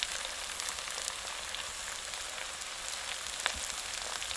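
Sliced onions and green chillies sizzle steadily in hot oil in a pan, a continuous bright crackling hiss with small pops, close and even throughout, no talking.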